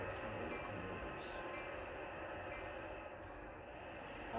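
Locomotives with slipping wheels in the Train Sim World 2 video game on Sherman Hill, a steady low rumble and hum of rail running under a faint high whine, continuous and fairly quiet, no speech.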